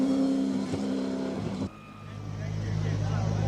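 A Ferrari 296 GTB race car waits at the starting line of a hill-climb speed event in Cape Town, its engine holding a steady, droning idle before the tone drops and changes. A voice talks over the engine.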